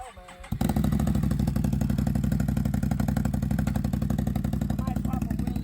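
A Razor XP dirt bike with a damaged frame kicks into life after a brief quiet moment, then holds a loud, close, rapidly pulsing engine run until the end, with a voice briefly heard early on.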